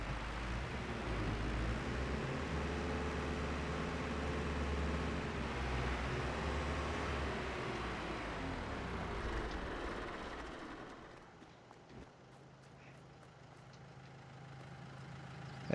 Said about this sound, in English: this tractor's ungodly loud